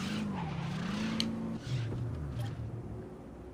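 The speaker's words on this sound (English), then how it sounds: "And now my car is stuck." In the video game Saints Row, a stuck car revs while its tires spin and squeal, a whining engine tone shifting pitch over a continuous grinding rumble, fairly close, without speech.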